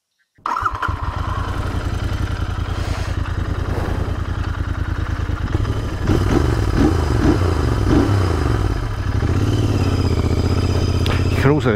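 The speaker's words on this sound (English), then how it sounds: "You can also hear that slightly more rasp from the exhaust with the DNA filter" A Royal Enfield Interceptor 650 motorcycle engine with a DNA air filter fires up and idles with a raspy, throaty exhaust note, revving slightly partway through, loud and close.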